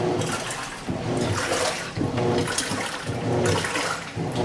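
A washing machine churns and sloshes water in a loud, continuous wash with rhythmic surges of splashing. No speech is heard over it.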